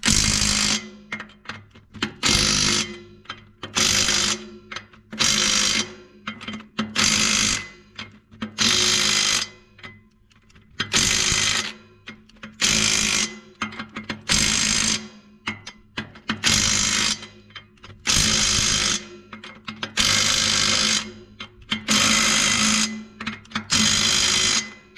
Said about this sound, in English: whenever you're torquing a tire down, well, especially a pivot tire, I always like to have a full battery